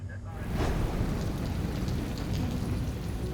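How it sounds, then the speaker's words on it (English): Steady heavy rain pours on Guam during the rainy season, a dense continuous hiss with a low rumbling undertone like distant thunder, holding at an even level throughout. "Rain has been hitting Guam on and off all day."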